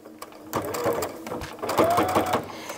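A sewing machine stitches bias tape onto a holiday fabric bowl cover, a close, rapid mechanical whirring chatter that starts after a brief pause and runs in two short bursts.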